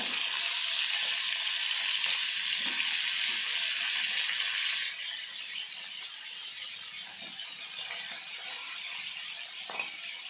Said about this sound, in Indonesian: Nah sekarang ikan asinnya digoreng dulu ya teman-teman